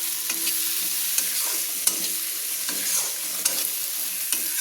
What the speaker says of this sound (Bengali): দিয়ে ভালো করে নেড়ে নিচ্ছি, তেলের মধ্যে মশলাগুলোকে কষিয়ে নিচ্ছি।